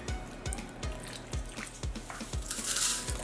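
Water goes into a batter for vegan cauliflower wings, with a series of regular wet taps and stirring splashes, close and fairly quiet, ending in a brighter hiss.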